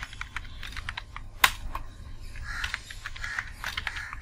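A MySQL root password is typed on a computer keyboard during an Ubuntu 16.04 server setup: a quick run of close key clicks with one sharper, louder strike.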